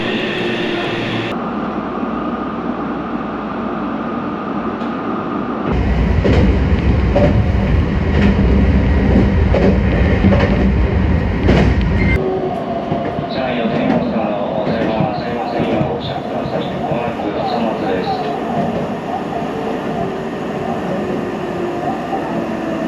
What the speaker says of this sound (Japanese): はい、やってきたのは、特急名鉄岐阜行きの電車になります。